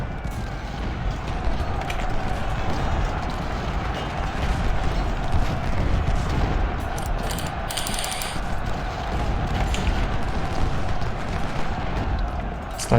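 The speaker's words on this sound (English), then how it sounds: "Yeah, that's a lot of artillery." Massed artillery fire in the Civil War battle game Ultimate General: Civil War, a dense continuous roar of distant cannon thuds and clattering fire rolling on without a break, with brief crackling bursts on top.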